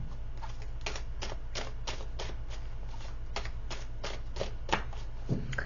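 A deck of tarot cards is shuffled in steady repeated riffles, crisp papery bursts roughly every half second, close-up against a low background hum, with no talking.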